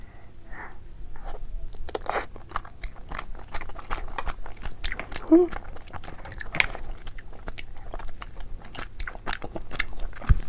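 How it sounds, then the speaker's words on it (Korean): Close, crunchy bites and wet chewing of tteokbokki, steady mouth sounds repeating over several seconds with small scrapes and smacks, no talking. "떡볶이만 딱 마지막으로 먹고"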